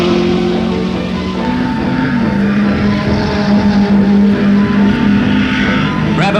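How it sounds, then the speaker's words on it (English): Early-1960s racing cars, including a Cooper Maserati, roar around the circuit at the 1961 New Zealand Grand Prix. A loud, continuous engine drone dominates, its pitch shifting as cars push hard through the course. "fine driving by Arnold Glass in number 10, who's pushing his Cooper Maserati just as hard as he can."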